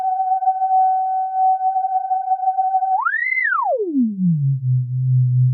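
A pure, steady Roland synthesizer tone holds its pitch in tune, then bends sharply up and slides down out of tune to settle on a lower, slightly wavering note.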